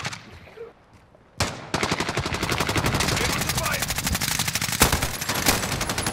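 Rapid automatic gunfire in Call of Duty Modern Warfare, a short shot and pause, then a long sustained burst of fast loud shots, with a couple of sharper single cracks near the end.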